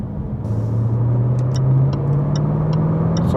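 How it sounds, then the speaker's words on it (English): A Jaguar F-Type with a V8 engine accelerating in comfort mode on the Autobahn, its steady engine drone rising smoothly in pitch, loud and close, with no talk over it. "So accelerating with this car, the V8 engine, this is in comfort mode."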